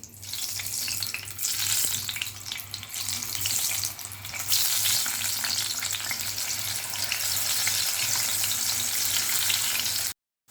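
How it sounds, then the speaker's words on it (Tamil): Loud, continuous sizzling of potatoes deep frying in hot oil, steady and close, then cutting off abruptly at the end. "அடுத்து நம்ம உருளைக்கிழங்கு பொரிச்சிக்கலாம். எண்ணெய் நல்லா சூடாக இருக்கணும்."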